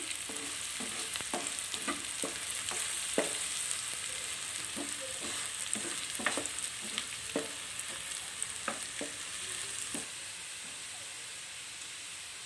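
Onions browning in oil with bay leaf and cinnamon pieces for a prawn malai curry, a soft continuous sizzle broken by scattered scraping stir strokes from a spoon against the pan.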